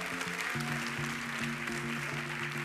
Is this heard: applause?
yes